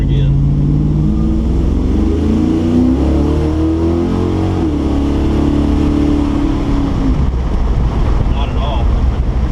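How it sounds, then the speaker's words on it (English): A car with a Thermoquad carburetor pulls away in first gear, the engine note rising as it accelerates, with heavy wind buffeting on the microphone and occasional speech over the top. "I'm gonna pull it down at first gear and do a little bit of a pull"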